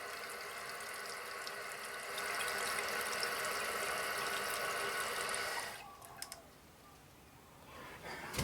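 Water rushes continuously into a toilet tank through the fill tube, aimed against the tube's inside wall, a bright steady hiss that cuts off near the end, leaving faint trickles and a few small clicks.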